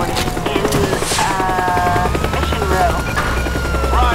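Helicopter in the game Teardown, a loud rhythmic rotor chop throbbing steadily throughout while someone talks over it.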